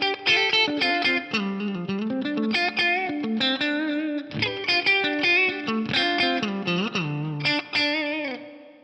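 A TC Electronic G Force rack effects unit adds reverb to a distorted electric guitar, which plays a continuous run of chords and notes with a wash of ambience, loud and close, with no talking.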